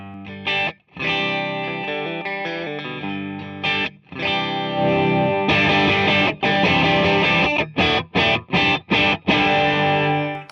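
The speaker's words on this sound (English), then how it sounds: "get a pretty nice, crunchy gain sound" A distorted, crunchy electric guitar through a Tree of Life Octo Drive overdrive pedal plays chords with sustained ringing notes, then a series of short choppy stabs separated by brief silences.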